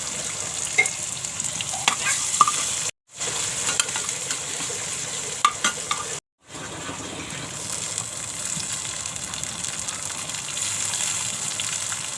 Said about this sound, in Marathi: लसूण चांगली भाजली आहे आता कांदा घालून घेते